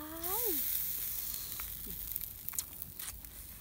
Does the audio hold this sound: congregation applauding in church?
no